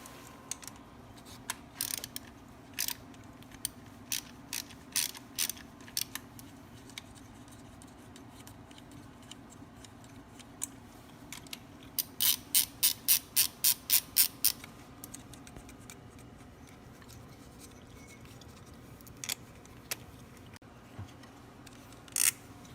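Ratchet clicking with a 10 mm socket while removing ground bolts on a 1.8 TSI Volkswagen Jetta A6: scattered ratcheting clicks, then a quick burst of rapid clicks midway, close and fairly quiet with no talk.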